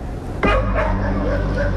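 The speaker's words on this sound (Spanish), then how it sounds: "Lo que usted escucha de fondo es el ladrido de 100 perros que viven entre basura y escombro." Around a hundred crowded dogs kept among trash and rubble bark loudly together after a brief lead-in, a dense overlapping chorus of barks and yips over a low steady hum.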